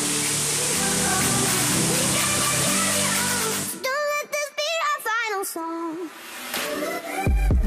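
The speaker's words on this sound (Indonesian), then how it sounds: "Dan ini dia air terjun Tretes, Desa Pagerwojo, Kecamatan Pagerwojo" Tretes waterfall in Pagerwojo, Tulungagung, a natural forest cascade, roars as a loud broad rush of falling water for several seconds, then cuts to quieter background with voices talking.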